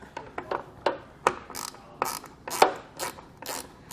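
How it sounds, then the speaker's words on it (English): A ratchet driving a Torx bit clicks in quick, close bursts of sharp ticks with short pauses between them while loosening bolts on a 2013 Jeep Wrangler tailgate. "you're going to come up with a ratchet and a Torx bit"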